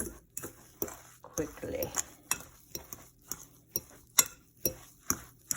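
A utensil clinks repeatedly against a bowl while liquid is mixed into eggs to temper them, regular sharp ticks in a steady rhythm, with someone briefly speaking over it.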